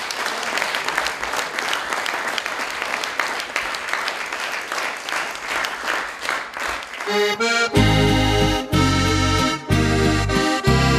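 An audience claps steadily for a folk band at a polka event in Mozirje, and about seven seconds in the band strikes up loud, bright accordion-led music over the fading applause.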